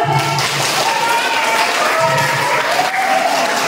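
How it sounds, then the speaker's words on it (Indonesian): An audience applauds at an Indonesian presentation, a dense steady patter of clapping with some voices mixed in throughout. "Tepuk tangan dulu."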